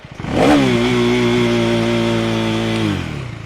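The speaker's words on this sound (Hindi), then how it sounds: "अब मैं इसके अंदर फुल रेस देने वाला हूं और बाइक लगी है ट्रैक मोड पे।" A KTM Duke 390 motorcycle in track mode holds its engine at a steady high rev under launch control, a loud, close, sustained buzzing drone that rises quickly, holds for about two seconds, then drops back to idle.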